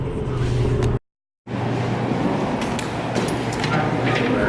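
Steady low rumble of a car being driven, heard from inside the cabin, with a brief dropout to silence partway through.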